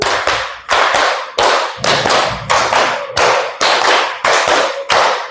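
A class of students claps together in a rhythmic pattern, about ten loud, sharp bursts of many hands in quick succession with short gaps between them and no talk.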